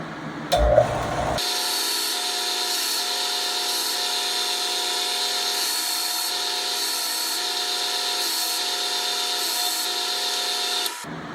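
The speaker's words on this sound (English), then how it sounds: "And I got my sander here. Turn this up higher." Electric sander on a model airplane, a Corsair kit, starting after a brief clatter, then a steady high-pitched whine with a faint pulsing buzz, close and loud for about ten seconds before cutting off.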